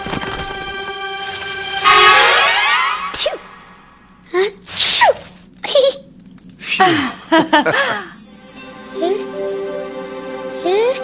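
A short sneeze bursts out amid lively music and scattered voices, followed by chatter and light jingling.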